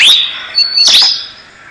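A forest songbird that mimics the calls of other species gives loud, close, clear whistled notes, an opening call and then a sweeping, chirping phrase, with no other sound around it.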